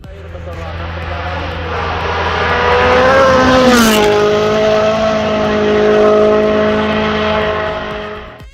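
Rally cars from EA Sports WRC roar through a forest stage, a loud sustained engine note rising and falling through revs and gear changes, with a brief squeal midway, close and filling the whole stretch.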